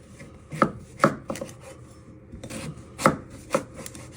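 A knife chops butternut squash into small cubes on a board with sharp, close thuds. The cuts come in irregular clusters with short pauses between them, and no one talks.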